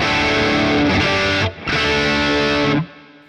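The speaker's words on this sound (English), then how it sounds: "I love the plate reverb that's already in here." A distorted electric guitar through a Boss Katana MkII amplifier's plate reverb plays two sustained chords, each one washing out into a smooth, shimmering reverb tail.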